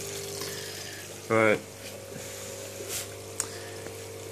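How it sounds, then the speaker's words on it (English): A homemade aquarium filter pump runs in a tank, giving a steady low hum with faint watery trickling. A voice briefly speaks a single word over it. "The pump is running, taking in particulate."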